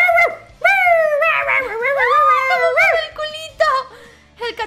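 A puppy in the dating game Corazón de Melón whimpers and yips in a run of high, wavering cries, loud and close, with soft game music underneath.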